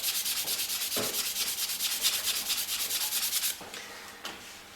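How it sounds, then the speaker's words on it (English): Rapid rhythmic scratching of sandpaper rubbing by hand back and forth along the grain of wood, close and steady, slowing to a few separate strokes near the end. "just hand sand that with the grain"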